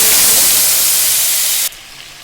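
Dried red chillies and cumin seeds spit and hiss in hot oil, a loud, close, bright sizzle running steadily for nearly two seconds before suddenly dropping to a softer simmer.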